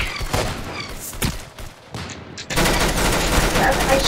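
Gunfire in the Roblox shooter Arsenal rattles in a quick mix of single shots and bursts, with one dense, continuous volley at the end, all moderately loud and without talking.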